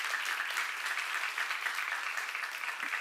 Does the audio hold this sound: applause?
yes